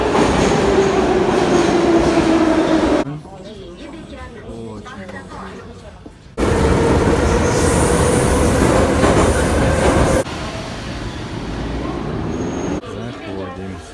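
A train moving through an underground Tashkent metro station, loud and close, with a rising whine, rumble and wheel clatter. It drops away abruptly, surges back, then fades into a quieter roar while voices talk in the background.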